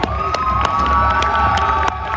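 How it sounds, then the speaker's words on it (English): A crowd at a California youth cheerleading event cheers and whoops loudly, with children's shouts and scattered claps forming a sustained, bright roar that drops briefly near the end. "let's give Haley a round of applause."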